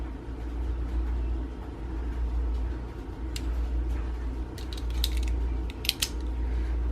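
A stainless 440 Milano-style folding knife is locked, giving a few small metallic clicks over a constant low rumble.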